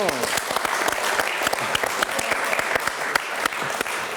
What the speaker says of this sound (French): Applaudissez EDF, enfin.